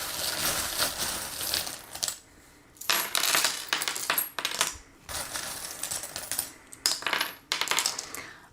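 Small metal charms cast and tumbling onto a surface for a divination reading, several bright clattering bursts of jingling metal separated by brief pauses, close and loud with no talk.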